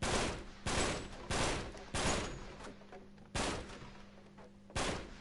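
Gunfire in Uncharted 3 comes as six heavy, booming single shots at irregular intervals of roughly half a second to a second and a half. Each blast decays into a short echo, and no other sounds intrude.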